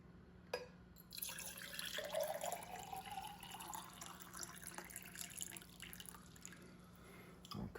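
Water pours steadily from one measuring cup back into another container for about six seconds, a soft continuous trickle and splash with a faint hum underneath, ending with a small knock.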